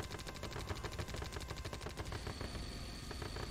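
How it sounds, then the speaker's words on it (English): Gatling cannon firing in the Red Alert 2 Mental Omega strategy game, a dense, continuous rapid rattle of shots, loud and unbroken with no talk over it. "Gatling cannon deployed. It's gonna scare off those conscripts right here."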